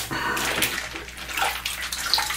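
Cold water gushes steadily from a tap, a close, continuous splashing rush with a light sloshing texture and no speech.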